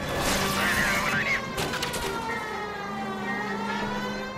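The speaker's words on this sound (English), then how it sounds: "Turn that siren off." A police car siren wails continuously during a 1940s Los Angeles car chase in L.A. Noire, its tone rising and falling, with gunfire and engine noise mixed under it.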